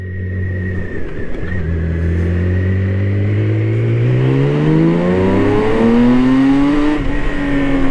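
A BMW K 1600 GTL touring motorcycle's six-cylinder engine revs up from a low rumble, its pitch climbing smoothly and steadily to a loud, close, high-revving howl with no talk.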